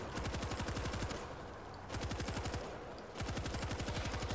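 Rapid machine-gun bursts in the zombie shooter World War Z, three sustained rattling volleys separated by brief pauses, fairly quiet in the mix with no talk over them.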